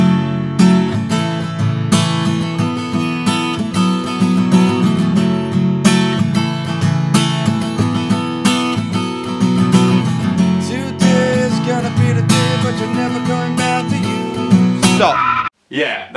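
Hagstrom Siljan Custom Grand Auditorium acoustic guitar strummed with a thin pick through a song, a steady, bright, full chordal strum that plays continuously and close before stopping abruptly near the end.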